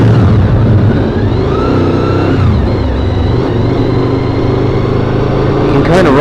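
A Honda VFR motorcycle engine on damp roads runs unevenly at low speed, its droning note surging and sagging as the bike jerks on and off, loud and close, with a voice talking over it.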